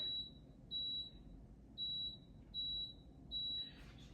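A Power XL air fryer's control panel gives five short, high, electronic beeps at roughly even intervals as it is set to the fry mode, clear and alone in a quiet kitchen.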